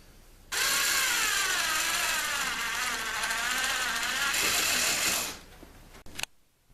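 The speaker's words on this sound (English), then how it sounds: "I'm go ahead and drill out this hole straight because it wants to go in crooked" A power drill whirs steadily at high speed for about five seconds, drilling out a screw hole for a door lock plate, its pitch wavering under load, then winds down, followed by a few faint clicks.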